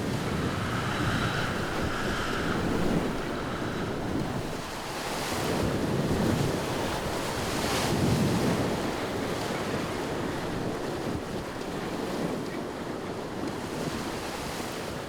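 Heavy sea waves surge and crash in slow swells while strong headwind buffets the microphone aboard a sailing boat, loud and continuous with no voices.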